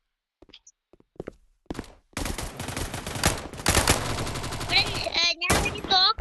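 After a few scattered footfalls and a short pause, a gun erupts in long rapid bursts of automatic fire, close and loud, with brief gaps between volleys and some high ringing tones near the end.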